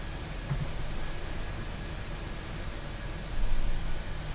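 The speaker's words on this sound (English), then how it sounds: "Just waiting on this train to go by there" Steady low rumble of a train rolling past in a railway simulation game, a continuous broadband roar that swells briefly near the end, with no voices.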